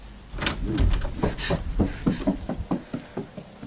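A house door between the living room and kitchen bursts open with a heavy slam, followed by a string of rapid knocking and rattling thuds that fade over a few seconds.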